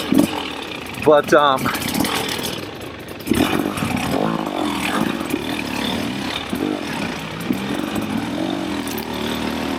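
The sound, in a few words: 2024 KTM 300 XCW dirt bike engine idling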